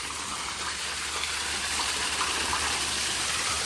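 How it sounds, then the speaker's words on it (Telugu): Water drains out of a tanker truck into a drain, a continuous rushing gush that stays steady and close throughout with no voices. "ఇక్కడ తీసుకొచ్చి నీళ్ళు డ్రైన్ చేస్తాను"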